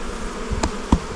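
Honeybees hum steadily at an open hive, a close, dense buzzing drone with a few louder bumps of handling over it.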